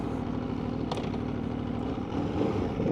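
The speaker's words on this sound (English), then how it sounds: "the sound is the typical RSV4" A 2026 Aprilia Tuono V4 motorcycle's V4 engine hums steadily while riding on the road, a continuous low rumble with mild rises in revs, recorded close.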